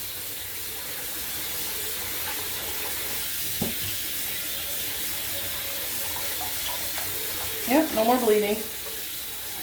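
Tap water runs steadily while yarn is rinsed in a sink to clear bleeding dye, a continuous even hiss with a few small clinks, and a voice briefly speaks near the end.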